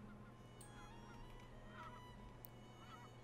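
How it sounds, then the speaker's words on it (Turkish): Geese honking as a flock passes over a city in the video game Farthest Frontier, a few faint, distant calls over a low, steady background hum. "Kuşlar geçiyor şehrimizin üstünden."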